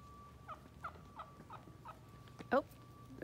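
Turkeys gobble outdoors in a quick, faint series of about six rattling calls, followed by a louder gobble near the end.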